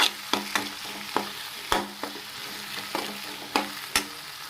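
A spoon scrapes through tomato egg curry frying in a pan, with about eight sharp irregular stirring strokes over a soft continuous sizzle, close up and without talk.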